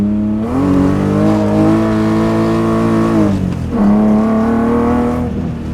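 BMW E30 with a swapped S52 inline-six and individual throttle bodies accelerating hard, engine note climbing loud and close through one gear, dropping briefly at a shift, then rising again with a raspy intake howl.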